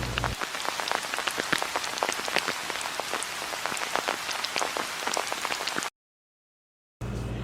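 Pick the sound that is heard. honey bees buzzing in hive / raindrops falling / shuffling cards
raindrops falling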